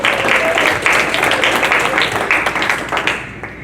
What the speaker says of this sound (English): Please give a round of applause for Kelly Spencer being with us.